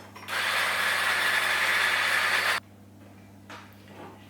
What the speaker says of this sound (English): And then whisk them.